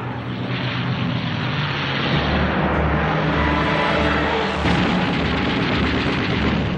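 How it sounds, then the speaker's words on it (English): World War II aircraft engines drone steadily in flight over Japan, a continuous, full roar that swells slightly partway through, with no voices. "The older and slower planes of the Japanese Air Force"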